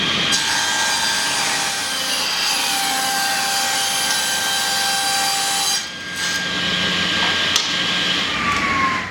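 A table saw makes test cuts in wood guided by a 3D printed featherboard, with a steady close whine and blade rasp running nearly continuously, dipping briefly once before resuming.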